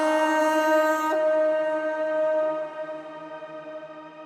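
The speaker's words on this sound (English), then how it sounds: "That's Valhalla Shimmer running. This is a really cool reverb plugin that can get a little bit gnarly sometimes" A Valhalla Shimmer reverb plugin on a modern rock vocal forms a bright, sustained harmonic wash that holds steady, then slowly thins into a fading shimmering tail, with no dry voice on top.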